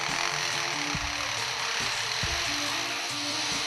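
A lyrebird imitates a chainsaw with a continuous rough, buzzing mechanical drone and occasional sharp clicks, steady and moderately faint throughout.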